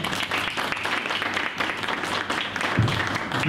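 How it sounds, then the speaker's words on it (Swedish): Audience applause at a Swedish panel event on performing-arts recruitment, a steady wash of many hands clapping for a few seconds with no voices. "Vi hälsar dig välkommen med en applåd."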